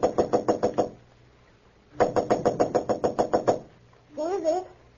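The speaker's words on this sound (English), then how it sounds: "Clark Kent was about to knock at the door when suddenly he blanched" Knocking on a hotel room door in an old radio drama, with three loud, close bursts of rapid knocks, the last blending into a voice.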